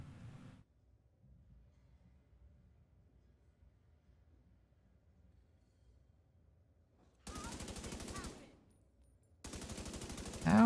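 Assault rifle fire in The Division 2: two sustained bursts of rapid automatic shots, loud and close, separated by a short pause after a long stretch of quiet low rumble.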